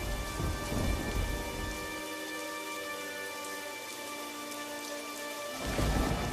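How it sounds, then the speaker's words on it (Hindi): Heavy rain pours steadily through a thunderstorm, with deep rumbling thunder swelling at the start and again at the end, loud and continuous, and no voices. "बारिश शुरू हो गई"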